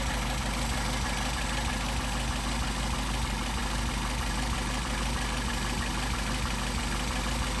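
A Mercedes-Benz 190SL engine idling on Solex carburetors, a steady, low, continuous rumble with no one speaking.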